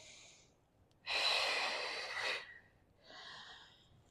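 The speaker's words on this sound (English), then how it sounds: "You're inhaling and then you're gonna exhale." Deep breathing during a movement warm-up: a quiet inhale, then a long, strong breathy exhale lasting over a second, followed by a softer breath. It is close and clear, with no talking.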